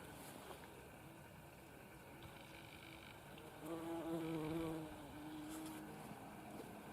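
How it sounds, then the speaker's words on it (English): Bees hum around runner bean plants outdoors, a soft continuous buzzing with one louder bee passing close in the middle, over a quiet outdoor background. "you'll hear that these runner bean plants are humming with bees"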